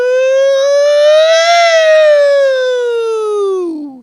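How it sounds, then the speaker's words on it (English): A single loud siren tone rises slightly, holds, then slowly falls and fades out, clean and close with no other sounds. "I need a siren."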